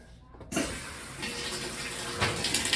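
Water rushes in through the valve of a Whirlpool washer, starting suddenly and then flowing as a steady, loud hiss with no pauses.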